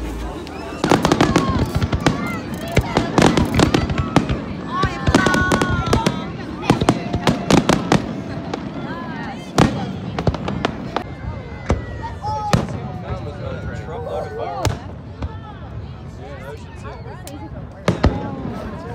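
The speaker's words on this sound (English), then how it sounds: "we are here to watch fireworks" Fourth of July fireworks bursting repeatedly, with sharp loud cracks and booms at irregular intervals throughout, and a crowd talking and cheering underneath.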